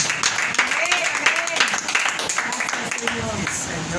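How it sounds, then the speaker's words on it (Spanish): Congregation applause at an evangelical church service, loud clapping blended with excited voices and a preacher's speech running over it throughout. "Denle un fuerte aplauso al Rey de Reyes y Señor de Señores"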